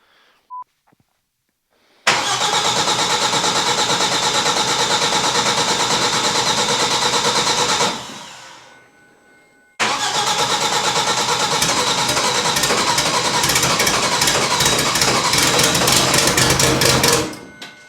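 An Audi Group S rally car engine cranks and fires, running loud and steady at a rough idle for about six seconds, cuts out briefly, then restarts and keeps running close by.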